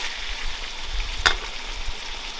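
Pickled ginger, chili and bean paste stir-fry in a hot wok with a steady loud sizzle and one brief clink of a utensil partway through.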